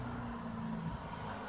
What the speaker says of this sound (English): Yeah, the car's coming by, I told you.